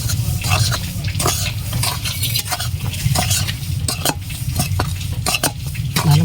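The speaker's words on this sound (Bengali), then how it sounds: "ভালো করে নেড়ে চেড়ে নামিয়ে নেব।" Semolina and flour roasting together in a wok, stirred with steady scraping and rustling and sharp clicks of the spoon on the pan, close and continuous with no voices.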